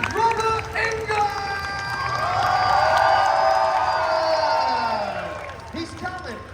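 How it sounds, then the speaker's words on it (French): A large crowd at a Comic Con France panel cheers and whoops loudly as Robert Englund takes the stage, swelling to a sustained roar in the middle before easing off, with scattered shouts throughout. "A round of applause, please."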